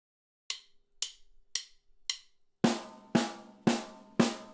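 Four evenly spaced quarter-note drum hits in 4/4 played alone, followed by four louder, fuller hits at the same steady pulse.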